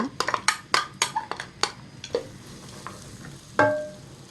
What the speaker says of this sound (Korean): 양파랑 파랑 같이 볶을게요.